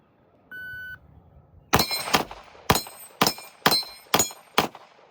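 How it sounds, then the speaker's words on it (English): Pistol shots ring out against steel targets at about 10 yards, the first after a short electronic beep, then six sharp reports with metallic clangs in a quick, slightly uneven string, loud and close, with no talking. "We go shoot some steel."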